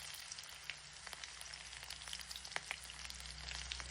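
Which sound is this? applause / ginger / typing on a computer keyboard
ginger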